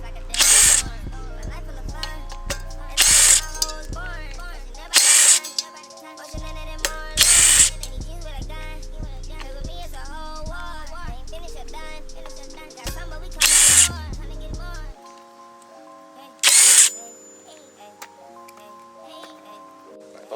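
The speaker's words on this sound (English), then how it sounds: "About to hit it with the Ugga Dugga machine." Impact wrench zipping rear wheel bolts off a Surron electric dirt bike, fitted with a 16-inch Milk Racing wheel: six short, loud bursts spread over about twenty seconds, set against a steady background hum.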